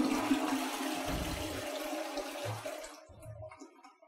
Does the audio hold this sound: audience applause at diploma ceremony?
no